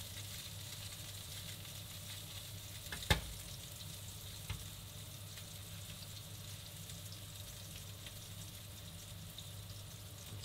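Garlic fries in a very hot pan with a constant close sizzle and hiss, broken by one sharp clack near the middle and a softer knock shortly after.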